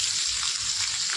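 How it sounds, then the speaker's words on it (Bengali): Onions sizzling in hot mustard oil in a pan while fish curry is started, a steady close hiss and crackle of frying that continues without a break. "তো দিয়ে দিলাম সর্ষের তেল, এই যে পেঁয়াজ, তো পেঁয়াজ দিয়ে দেবো ফার্স্টে"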